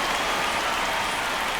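Steady rain hiss from an MLB The Show 25 baseball game broadcast, a dense, even wash of falling rain with no break and no talk over it.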